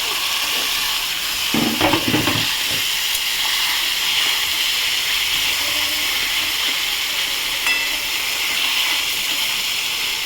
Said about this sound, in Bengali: এই অবস্থা মাছগুলো এই মশলার সাথে একটু কষে নেব